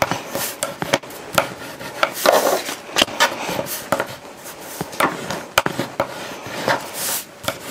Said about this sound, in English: I'm going to burnish all of these down.